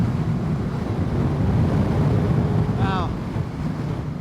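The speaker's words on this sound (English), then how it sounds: "I did not expect it to be this windy today." Heavy, blustery wind roars across the microphone while riding a fifth-generation Honda VFR sport bike, a loud, constant rumble with a brief voice-like chirp near the end.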